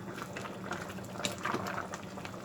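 Thai bamboo shoot curry with mixed vegetables bubbles in a pot, a steady soft simmering hiss with small pops and bursts of bubbling, quiet and continuous with no voices.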